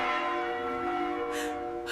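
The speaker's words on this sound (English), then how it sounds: "Bells ring constantly for the dead." A church bell rings with a sustained, resonant hum that fades slowly, with a brief burst of noise near the end.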